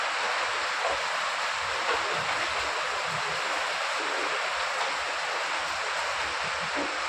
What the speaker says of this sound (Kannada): ಫುಲ್ಲು ನಮ್ಮ ಮನೆ ಮುಂದೆನೇ ಹೋಗ್ತಾ ಇದೆ ನೀರು ಹರಿದು ಬಿಟ್ಟು